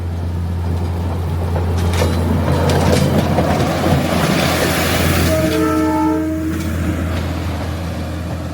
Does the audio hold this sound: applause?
no